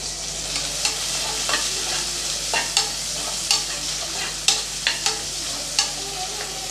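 Sliced onions sautéing in hot oil inside a pressure cooker for Tamil tomato rice, a steady sizzle broken by repeated sharp scrapes and clinks of a spoon stirring against the metal pot, close and moderately loud, no talking.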